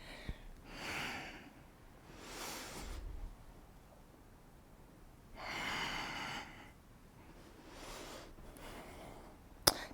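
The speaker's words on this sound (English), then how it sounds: "Inhale back. Exhale. Inhale. Exhale. Inhale." Heavy rhythmic breathing during a yoga breathing exercise, with several slow, audible inhales and exhales in a steady cycle, close and fairly quiet, with no talking.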